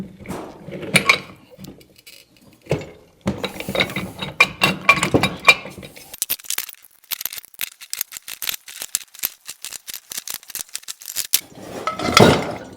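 Ratchet clicking in bursts while threading a copper fitting onto a pressure-cooker moonshine still with a reflux column, close and fairly quiet, with sparse dense runs of rapid clicks and pauses between.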